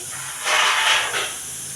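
Tomatoes drop into a hot pan of vegetables (beans, broad beans, capsicum), giving a sudden loud sizzling hiss that swells for about half a second, briefly fades, flares once more, then settles.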